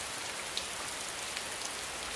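Heavy rain pours steadily onto surfaces, a dense, even hiss of drops close and loud throughout, with no voices.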